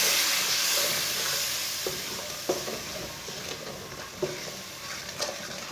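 Spices fried in a pan with a splash of water added are stirred, with a steady sizzling hiss and several distinct scraping strokes of the spoon against the pan.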